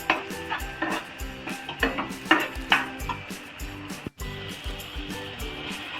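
Ground masala frying in a pan with prawns and being stirred, giving a steady sizzle under rhythmic metal scraping and clinking of the spoon against the pan, close and fairly loud, with no talking.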